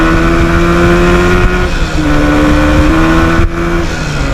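A 1977 Yamaha RD400 two-stroke motorcycle engine revs loudly up close, holding a steady buzzing pitch that drops and climbs again as it shifts through the gears.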